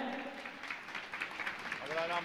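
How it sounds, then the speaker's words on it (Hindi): An audience at an honouring ceremony in India claps in a steady crowd patter, with a voice speaking over the applause toward the end. "मैं चाहूंगा आप जोरदार ताली बजाकर"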